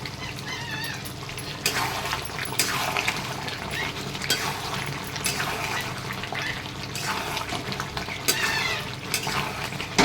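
Chicken sizzling and being stirred in ghee with kasuri methi leaves, a steady frying hiss with intermittent scraping stir bursts, close and continuous with no talking.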